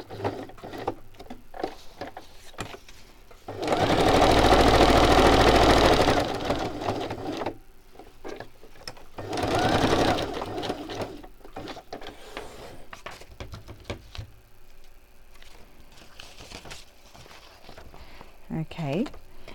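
Sewing machine running a straight stitch around a fabric pocket on a mini journal, in a loud steady burst of about five seconds and a shorter second run, with quieter handling noises between them.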